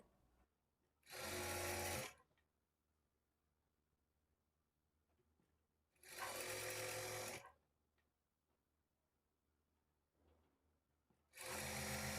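Sewing machine stitching thread piping onto cloth in three loud, even bursts of about a second each, separated by quiet pauses.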